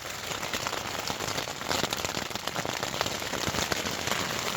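Rain drums steadily on a tent during a thunderstorm in the Colorado wilderness, a dense, continuous patter of close, crackling drops with no voices.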